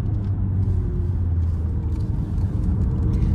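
A DS4 E-Tense 225 plug-in hybrid car driving and accelerating: a steady low engine and road rumble from inside the cabin, with no talk over it.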